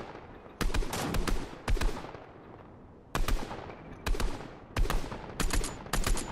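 Rapid bursts of gunfire in the Fortnite battle royale game, a cluster of sharp shots followed by several more volleys in quick succession, loud and close with no talking.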